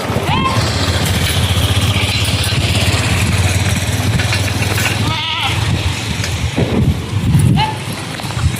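Goats bleat now and then as two elderly women chase them off newly planted trees near a house, over a steady low engine-like drone and background voices.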